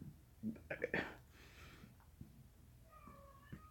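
An indoor cat gives a few soft meows, close and faint in a quiet room, with brief rustles and a short higher mew near the end.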